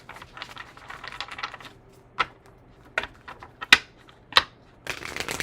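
Tarot cards being shuffled in short riffling bursts, a soft continuous patter at first, then several sharp separate snaps and flicks spaced about a second apart, close and moderately quiet.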